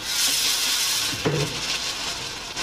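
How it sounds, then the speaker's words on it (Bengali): A paste of poppy seeds, green chili, ginger and tomato fries in hot oil with a steady, bright sizzle, interrupted once by a short stirring clink from the pan. "ভালো করে ফ্রাই করে নেব।"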